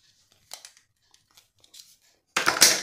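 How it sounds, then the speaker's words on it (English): Soft rubbery rustles and squeaks as heat shrink tubing is stretched over scissor blades opened apart, a few brief bursts, then a louder sustained scraping crinkle near the end, close up. "Place your heat shrink on the scissors and then stretch it, just opening the scissors."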